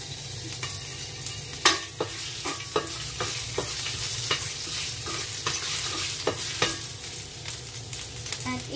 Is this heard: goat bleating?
no